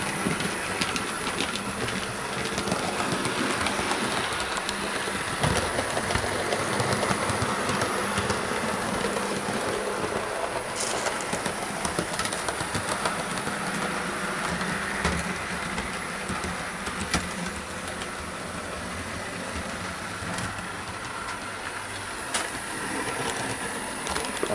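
A Bachmann class 47 model locomotive, No. 47829 in police livery, runs around a layout track, giving a steady whirring, rattling rumble of wheels and motor that holds at an even level throughout with no talking.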